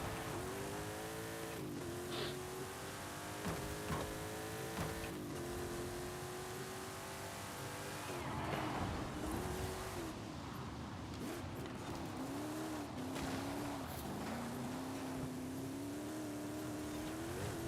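A race car in Forza Horizon 5 drives and oversteers, its engine note steadily rising and falling through revs with tire squeal, constant and fairly loud, with no talk over it.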